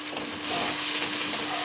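Chicken fries in a hot pan in a home kitchen, giving a steady, close sizzling hiss that grows slightly louder partway through, with a low constant hum underneath and no talking.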